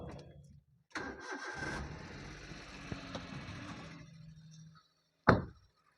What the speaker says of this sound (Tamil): வண்டி இன்ஜின் ஸ்டார்ட் பண்ணியாச்சு.